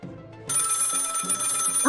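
A telephone in the video game Lil' Guardsman rings with a steady electronic trill that starts abruptly and carries on loudly over soft background game music, with no one speaking.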